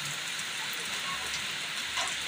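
Rain falls steadily outdoors, a soft, even hiss of drops with no talking.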